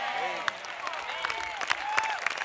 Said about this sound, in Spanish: Un aplauso, Jesús.